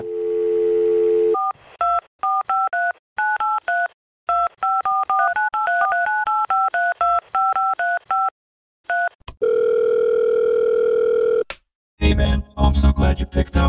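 A payphone being dialed: a dial tone, then a quick rhythmic run of touch-tone beeps, a steady tone and a burst of line noise at the end, loud and close.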